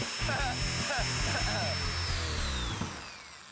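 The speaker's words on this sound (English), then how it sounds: "we're gonna make the wheels spin even faster using a drill. All right, power tools!" A power drill whirs steadily at high speed for a few seconds spinning a toy car's wheels, winding down at the end, with excited voices shouting over it.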